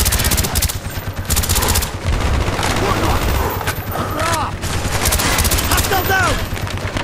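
Machine gun fire in a Call of Duty Black Ops campaign battle, rapid loud bursts of automatic shots rattling over dense combat noise, with shouted voices mixed in.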